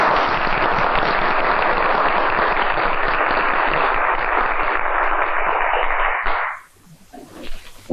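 Dense, loud applause from a large audience fills a film scene, a steady roar of clapping that stops abruptly near the end, leaving faint room noise.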